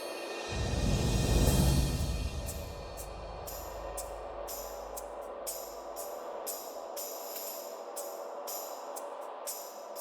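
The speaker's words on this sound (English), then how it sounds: "drum rolls, cymbal, piatti and stuff like this" Orchestral transition percussion in a dark Witcher-style score: a rumbling drum roll swells and fades under a shimmering cymbal wash, then rhythmic metallic piatti strikes pulse quietly, with sustained orchestral texture beneath.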